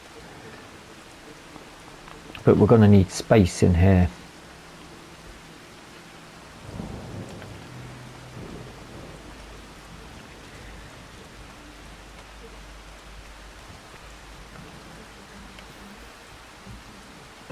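Rain falls in the Farm Sim 25 game on PS5 under a sudden near rumble of thunder early on, then a softer roll, with a steady hiss of rain throughout and someone speaking briefly.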